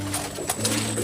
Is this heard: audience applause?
no